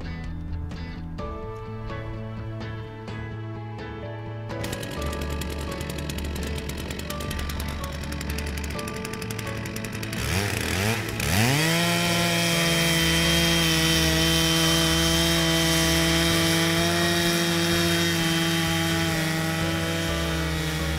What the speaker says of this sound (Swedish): Håll ett jämnt tryck mot motorsågens bygel så blir snittet rakt och fint.